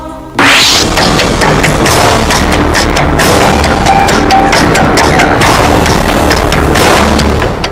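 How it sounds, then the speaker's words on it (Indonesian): A truck carrying explosives overturns and blows up in a tunnel in Yunnan, China: a sudden huge blast, then a sustained loud roar and crackling debris noise that lasts several seconds. "Ledakan besar ini berasal dari sebuah truk bermuatan bahan peledak yang terguling saat sedang melakukan pembongkaran"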